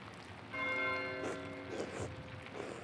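A church bell rings in the video game Pentiment: one clear, resonant toll with a long ringing hum, then softer repeated strikes fading under light ambient noise.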